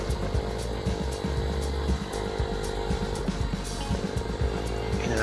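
A Hanway SC125S 125cc motorcycle engine drones steadily at high revs, loud and close, with rhythmic pulsing and a rough mechanical buzz and no voices over it.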